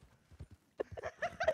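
Quick clip-clopping hoofbeats in a video game, a few soft taps then a brisker run of louder clops, like a horse trotting on a hard surface.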